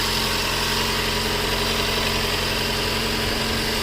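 A Toyota car engine idles steadily after a throttle body replacement, a continuous close mechanical hum and low rumble with no revving or voices.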